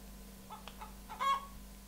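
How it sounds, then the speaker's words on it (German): A Minecraft chicken clucks a few short times, soft and close, over a quiet steady hum. "Ein Huhn."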